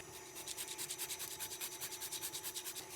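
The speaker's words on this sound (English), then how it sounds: "we will grate in the nutmeg" Whole nutmeg is grated into flour for a 1932 Yorkshire spice cake, making steady, rhythmic rasping strokes that repeat quickly and evenly at close range with no talking.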